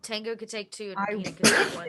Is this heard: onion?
no